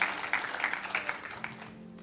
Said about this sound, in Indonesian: Boleh tepuk tangan bagi Tuhan kita.